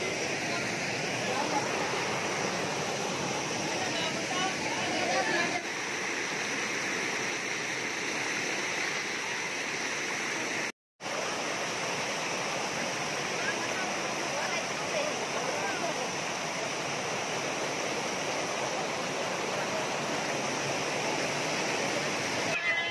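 Talon Pari Falls in Doña Remedios Trinidad pours with a constant broadband rush, loud and steady for the whole stretch, with one brief cut partway through; a faint voice may sit under it.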